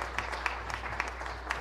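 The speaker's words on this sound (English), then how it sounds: "one more round of applause" Applause from an audience at a 2019 leadership challenge event, a brief steady patter of many hands clapping with no voices over it.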